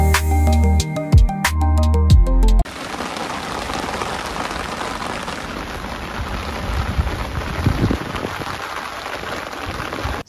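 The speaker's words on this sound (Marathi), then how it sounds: "पाऊसच यायला चालू झाला." Heavy monsoon rain pouring during a trek at Takmak fort, a dense continuous hiss of drops striking surfaces close around, following a brief burst of electronic tones at the start.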